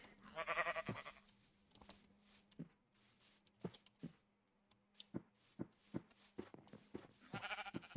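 Sheep bleating in the video game Minecraft, a few clear bleats near the start and end, with soft footstep-like taps scattered between over a faint steady hum.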